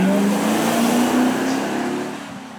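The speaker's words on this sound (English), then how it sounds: "The Corvette there from the 90s, a very respectable 350 brake." A 1990s Chevrolet Corvette with a 350 brake horsepower engine at a supercar weekend show, a loud engine drone rising in pitch as it accelerates, then fading slightly as the car pulls away.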